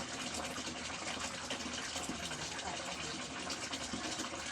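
Water from a pipe rushes steadily into a bucket on a terrace, a continuous broadband gushing fill sound at moderate distance with no break, faint and even throughout.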